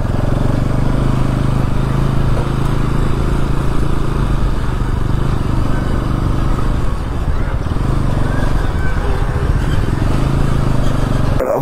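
A motorcycle engine idles and runs steadily at close range in a hill bazaar, with a continuous low hum and rattle that barely changes, heard alone without talk.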